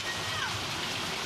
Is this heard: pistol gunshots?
no